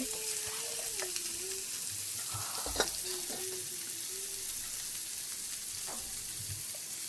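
Food deep-fries in oil in a pan with a steady, faint sizzle that runs through the whole stretch, joined by a few soft clinks and stirring sounds, and no one speaks.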